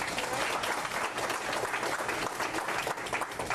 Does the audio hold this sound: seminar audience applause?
yes